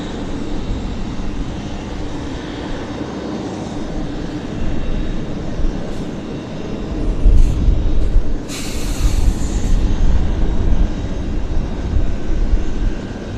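An airliner landing at Vancouver Airport, its engine roar steady and fairly loud throughout, swelling slightly toward the end with a brief higher hiss midway.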